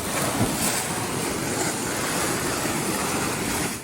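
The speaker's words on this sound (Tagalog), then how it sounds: "Malakas na rin ang hampas ng alon." Strong ocean surf churns in a loud, steady wash of crashing water and wind with no clear pauses, waves strong enough to destroy houses along the shore.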